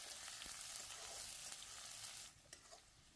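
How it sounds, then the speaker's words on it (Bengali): Crushed garlic cloves and chopped onion fry in hot mustard oil, giving a continuous close hiss and crackle of sizzling that drops a little near the end as it is stirred. "তেল ভালোভাবে গরম হয়ে গেলে এর মধ্যে থেতু করে নেওয়া 10-12 কোয়া রসুন, কুচি করে কেটে নেওয়া পেঁয়াজ দিয়ে ভেজে নিতে হবে"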